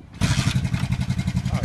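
A custom motorcycle engine cranks and catches after the key is switched on, settling into a loud, close, lumpy idle with rhythmic throbbing pulses; a voice is briefly heard.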